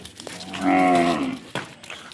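A calf moos once, a drawn-out nasal bellow close by in a village setting, followed by a brief lower grunt.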